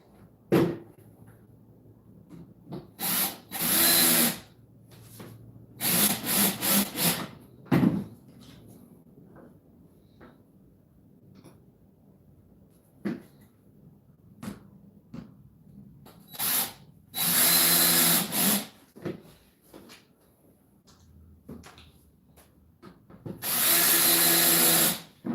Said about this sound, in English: So I'm fastening the planks together to make it larger